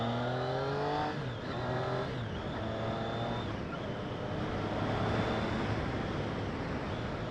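Triumph Street Triple RX motorcycle engine, loud and steady throughout, with rising and falling rev tones across several short sweeps, heard alone without talk.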